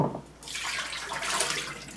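Soaked acorn grits and water poured from a jar into a sieve, a steady gushing pour that begins after a brief pause and continues, close and moderately loud.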